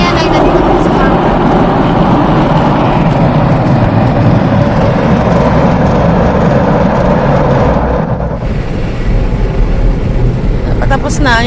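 A continuous loud engine roar from a small passenger boat heading home in the morning, with steady low rumble and hiss and a brief dip near the end; people's voices are partly buried beneath it.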